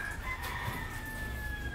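A rooster crows in a drawn-out, wavering call while other chickens cluck faintly around it in the open air. The crow carries clearly over a low background hum.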